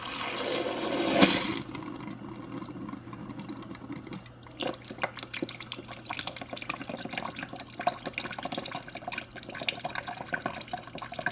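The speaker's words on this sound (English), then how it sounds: "You can see we're just getting a lot of the air that was in that filter out, so it's just kind of priming the whole thing." Water runs from the door dispenser of a GE Cafe refrigerator as a new XWFE filter is primed and purged of air, a steady trickling flow with small sputters after an initial louder gush, close by with no talk.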